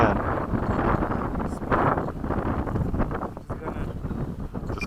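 Heavy wind buffeting a microphone in a steady loud rumbling roar throughout, with gusty surges and no clear voices.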